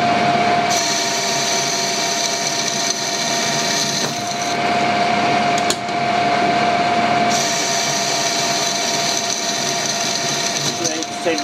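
A machine ploughs aluminium off a metal workpiece, a steady loud cutting drone with a sustained high tone that holds for the whole stretch with slight shifts in pitch.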